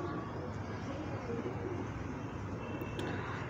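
Soft, low pigeon cooing repeats over a steady hiss of background noise, with no voices.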